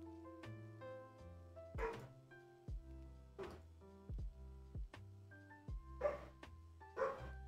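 A dog sound effect from spaceship-game development material barks several times in a sparse, spaced series against a steady tonal music bed, each bark short and fairly close.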